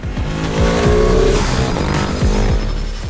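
A Ducati Hypermotard 950 RVE with a 937cc Desmodromic L-twin engine roars loudly and close while ridden, its engine note rising and falling through repeated gear shifts under heavy wind noise.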